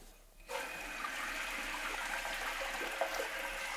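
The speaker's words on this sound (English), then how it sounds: "as the tank is filling up, what I'm letting it do is get complete so I can stop hearing the noise of it refilling" A toilet tank refilling with water after a repair, a steady rushing hiss that starts abruptly and runs on evenly at moderate level.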